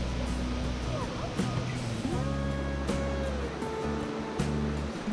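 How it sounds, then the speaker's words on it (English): Janet's Foss waterfall in a wooded limestone ravine, a steady rushing wash of falling water heard close, with a voice speaking over it. "soon we arrive at Janet's Foss, Foss being an old Norse term for waterfall."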